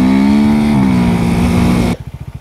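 A motorcycle engine held at high revs during a wheelie attempt, a loud sustained tone that drops off abruptly and settles into a rough, pulsing idle near the end.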